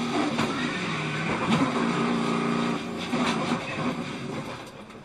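NASCAR stock cars roaring during a huge late-race pileup at the Daytona 500, a steady loud wash of engine noise with rising and falling tones and some tonal whine, an announcer-style voice faintly mixed in.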